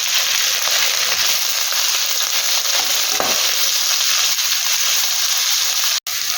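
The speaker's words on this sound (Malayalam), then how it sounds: "എണ്ണ ചൂടായി ഇത് രണ്ട് സവാള മുറിച്ച് വെച്ചതാണ് അത് ഇതിലേക്ക് ഇടാം നന്നായി ഒന്ന് വഴറ്റിയെടുക്കാം" Two sliced onions sautéing in hot oil, a loud, dense, continuous sizzle heard up close, with a brief cut near the end and no voices.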